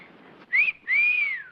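A whistle is blown twice, a short shrill blast followed by a longer sustained one, loud and close with nothing else around it.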